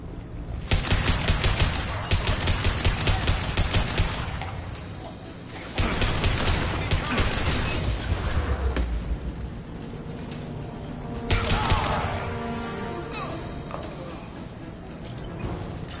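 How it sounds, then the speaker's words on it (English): Sustained gunfire from Blue Suns and mercenary fighters in the Mass Effect 2 video game, with dense bursts of automatic fire and heavy booms coming in waves, loud and close, with no talking. "Blue Suns and Orchard shooting anything that moves."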